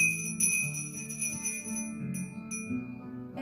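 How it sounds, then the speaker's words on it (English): A bell rings with a bright, sustained tone at a funeral home's remembrance service, its strokes and shimmering ring carrying over a low background hum, with no talk during the ringing. "Ringing the bell for Dolores J. Droslek."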